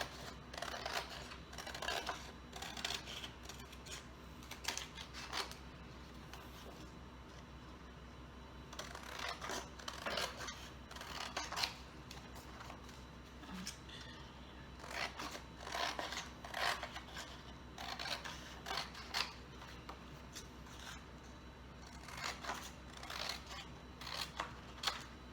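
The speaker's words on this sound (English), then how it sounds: "So now what I'm gonna do is just take my scissors," Scissors snip through a paper craft in irregular bursts of crisp cutting, quiet and close, with pauses between runs and no talking.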